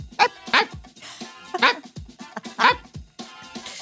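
A dog named Blue gives a run of loud, close barks in uneven bursts, some doubled and some single, with no talk over them.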